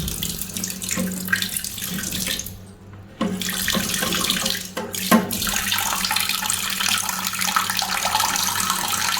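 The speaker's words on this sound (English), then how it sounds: "Turn on the tap. Water's going in." Tap water running steadily into a toilet bowl, a continuous broadband rush and splash with brief dips and bumps as the flow shifts, close and fairly loud with no talking.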